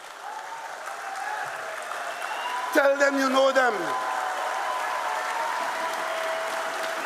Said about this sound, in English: I want you to stand and give them a round of applause.